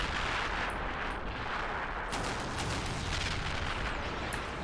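Artillery guns fire in a Warhammer 40K battle video game, a steady wash of heavy rumbling blasts and crackling gunfire, dense and fairly distant, with no talk.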